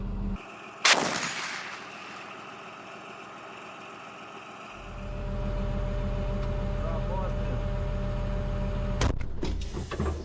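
A Leopard 2A4 tank fires its main gun in a single sharp, very loud blast near the start, then the tank's heavy engine rumbles and idles steadily, with a later thump near the end.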